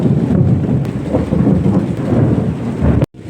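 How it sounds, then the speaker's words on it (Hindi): Loud, close thunder rumbles heavily over steady rain in a village setting, a continuous deep roll that cuts off abruptly near the end. "आकाश से ज़ोर ज़ोर से गरजने की आवाज़ आ"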